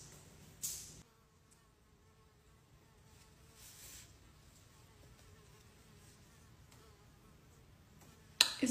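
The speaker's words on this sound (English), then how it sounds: "There's also a giant fly in my room buzzing around." A large fly buzzes around an indoor room, a faint, wavering drone that drifts nearer and farther, with a couple of brief louder swells and soft knocks.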